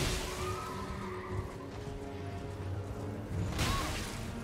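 A horse whinnies twice in Elden Ring during mounted combat: a long rising-and-falling neigh near the start and a shorter one near the end, with whooshes and game music underneath.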